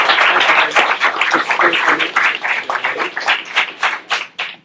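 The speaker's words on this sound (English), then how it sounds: "How about a big round of applause?" A lively round of applause from an audience at a recognition event, many hands clapping briskly at close range before tapering into scattered claps, no speech.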